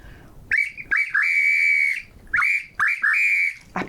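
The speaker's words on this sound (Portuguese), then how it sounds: "eu gosto de começar com apito" A whistle is blown in short and long blasts, two groups of shrill, piercing tones with brief gaps between them, close and loud.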